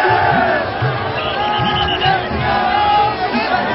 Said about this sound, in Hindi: अपने आराध्य की झलक पाने के लिए श्रद्धालुओं की भारी भीड़ उमड़ी